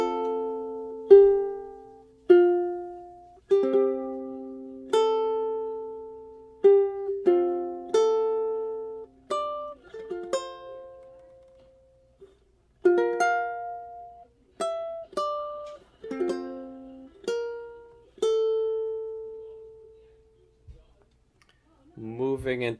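Ukulele fingerstyle playing the first bar of the lullaby Slumber My Darling very slowly, single plucked notes and small chords spaced out with pauses between them, close and clear, with a voice starting at the very end.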